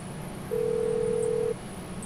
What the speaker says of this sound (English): Why is there a sound of a phone ringing in later?